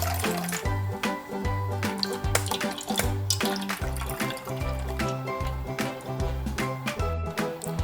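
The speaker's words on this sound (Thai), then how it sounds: "เทน้ำใส่ลงไปในถ้วยไข่ที่เรา เตรียมไว้นะคะ" Water pours steadily into a cup of cracked eggs for steamed eggs, a continuous splashing trickle over a repeating low musical backing.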